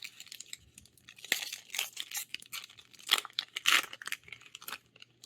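Foil wrapper of a March of the Machine trading card booster pack being torn open, a run of close crinkling rips and crackles with brief pauses between pulls.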